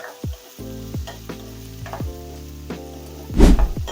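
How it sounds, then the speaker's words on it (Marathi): Onions sizzling in a hot pan with ginger-garlic paste, a steady frying crackle broken by several sharp scraping stirs and a louder burst of sizzle near the end. "कांदे छान आपल्याला फ्राय करून घ्यायचे"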